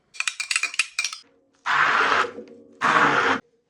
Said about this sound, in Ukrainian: І все гарно будемо збивати блендером до однорідної маси